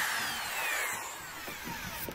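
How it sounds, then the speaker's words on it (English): A power drill fitted with a quarter-inch bit whines steadily as it bores into a plastic jet sled, close and continuous, with the pitch sagging slightly under load near the end. "Quarter-inch drill bit."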